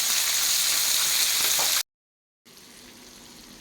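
Steady sizzle of pomfret (avoli) fish shallow frying in oil in a pan, loud and continuous, then a brief cut to silence before a quieter sizzle resumes.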